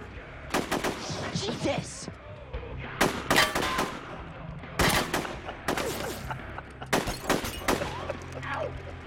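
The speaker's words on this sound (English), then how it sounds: "Why did you shoot a random chick?" Several loud gunshots ring out in a TV drama scene in clustered bursts, close and sharp with brief pauses between volleys. A startled voice shouts briefly among them.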